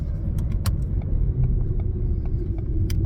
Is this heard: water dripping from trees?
no